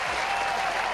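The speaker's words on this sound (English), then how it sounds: "That was my clapping." A single person's rapid clapping at an online awards show, a brief, dense burst of close hand claps with no voices over it.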